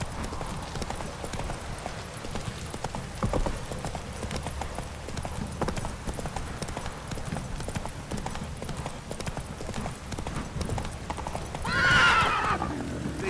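A horse gallops through The Witcher 3: Wild Hunt, hooves pounding in a steady fast rhythm over game ambience, with a loud whinny breaking through near the end.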